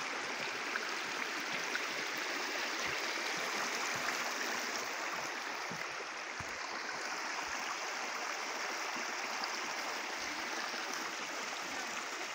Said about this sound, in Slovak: Jeden z mnohých potokov, ktorý napája morské oko.